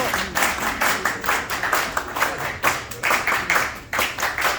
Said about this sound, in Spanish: Volvamos a dar un fuerte aplauso